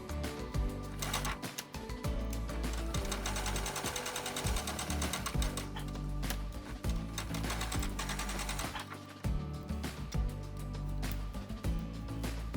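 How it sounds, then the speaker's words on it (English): A sewing machine stitches quilt squares with a quarter-inch seam allowance for a Sunset Flight quilt, whirring steadily and close up with only brief pauses between runs. "line it up with my background, and sew 1/4 inch seam allowance again"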